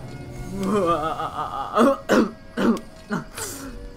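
A person coughs and clears their throat several times in short, harsh bursts after a moment of laughing vocal sounds, close to the microphone.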